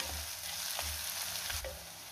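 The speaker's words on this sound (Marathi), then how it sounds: "आता पुन्हा मी 1 ते 2 मिनिटं परतून घेणार आहे, म्हणजे आलं लसणाचा कच्चा वास निघून जातो।" Onion, ginger and garlic sautéing in a pan for a dhaba-style paneer dish, giving a steady close sizzle with occasional stirring scrapes.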